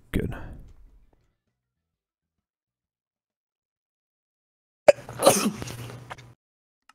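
A single sharp sneeze from a person breaks a long silence, preceded by a short earlier burst of sound and a brief click.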